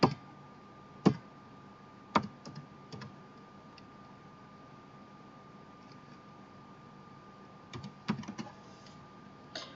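Keys tapped on a computer keyboard as a command is typed, a few short clicks and bursts of keystrokes with quiet pauses between them, close and fairly soft.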